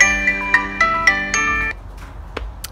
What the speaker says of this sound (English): I can push this button and it will ring my phone